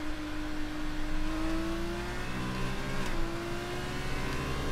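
A Formula 2 race car on a qualifying lap at Bahrain, its engine holding a steady high-pitched drone with a smooth rising and falling pitch through gear changes, heard from onboard without talk.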